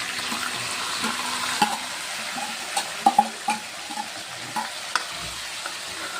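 Onion frying with garlic in a pan for rajma masala, a continuous gentle sizzle broken by several spatula scrapes and clinks, clustered near the middle, heard close with no speech.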